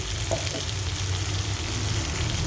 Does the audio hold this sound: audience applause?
no